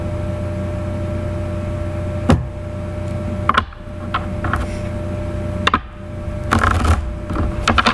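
Tarot cards shuffled by hand in a few separate bursts of soft riffling and snapping, each lasting about a second, over a steady low hum in an otherwise quiet room.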